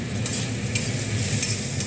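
Mustard greens sizzle and crackle steadily in a hot pan, a continuous close frying hiss with faint scraping from stirring.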